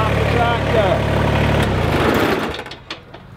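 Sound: tractor engine idling

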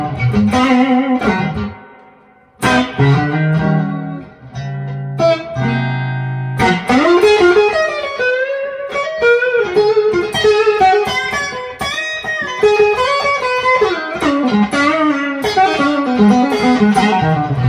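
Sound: electric parts-caster guitar played through effects

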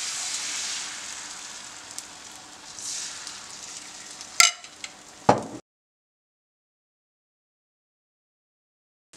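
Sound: egg mixture frying in oiled pan, Korean rolled omelette

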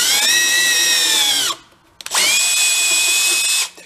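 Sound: power drill spinning a tap

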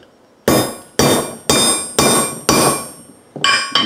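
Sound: hammer smashing a powder-coated bullet in a durability test

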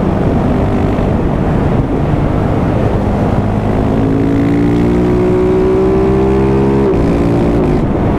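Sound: car engine revving at full throttle on a road

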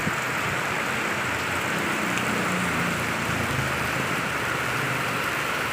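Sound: heavy rain

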